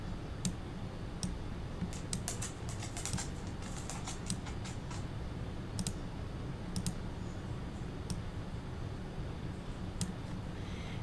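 A computer mouse clicks while a design is digitized in Brother Canvas embroidery software. Sharp, light clicks come scattered across the stretch, some in quick clusters, over a low steady room hum with no talking.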